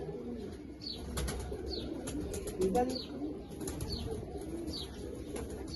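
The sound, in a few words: pigeons cooing and flapping wings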